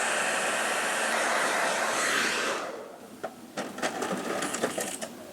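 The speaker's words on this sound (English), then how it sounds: "Just blow dry a little more." A handheld hair dryer blows on hair during a quick weave styling, a loud steady whooshing roar for about half the time that then cuts off, leaving softer scattered clicks and handling noises.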